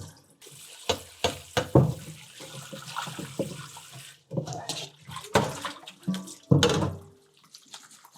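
Oysters rinsed by hand in a bowl of water, with splashing and sloshing in irregular bursts, some sharp and close, between quieter stretches of trickling and handling.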